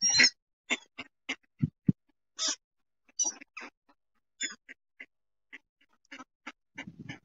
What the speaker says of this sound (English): These ducks are beautiful